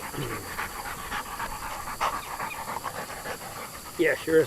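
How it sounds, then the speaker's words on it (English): A dog pants rapidly and steadily close by at a sawmill, a breathy rhythmic huffing under light background noise, with a brief human voice near the end. "Yes, you're a sweet dog."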